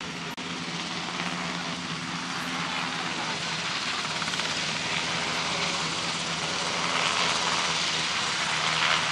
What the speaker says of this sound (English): Helicopter down there.